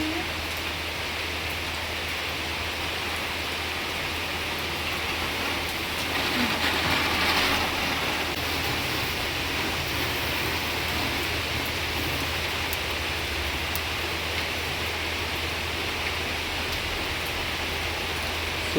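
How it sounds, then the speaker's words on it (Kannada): Rain falls during Diwali festivities, heard as a steady, even wash of broadband patter throughout, with a brief swell in the middle and a low hum beneath. "ದೀಪಾವಳಿ ಟೈಮಲ್ಲಿ ಯಾಕೆ ಮಳೆ ಬರುತ್ತೆ ಅನ್ಸುತ್ತೆ ಕೆಲವೊಂದ್ಸತಿ."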